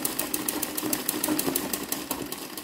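A sewing machine doing free-motion machine embroidery on a table runner: a steady, close, rapid mechanical whirring with fast regular needle ticking running throughout, no voices.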